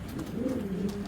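A pair of Giribaz pigeons coo at close range, a soft low rolling murmur that swells through the short moment with no talk over it.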